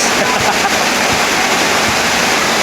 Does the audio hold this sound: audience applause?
no